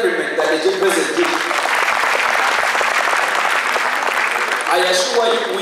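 Sustained applause from a large gathering of health workers, many hands clapping in a dense, even roar for several seconds, with some voices mixed in.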